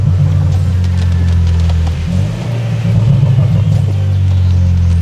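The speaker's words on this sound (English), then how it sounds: "Do you hear the exhaust?" A deep, steady BMW M4 exhaust rumble drones throughout, loud and close, dipping briefly midway before swelling again.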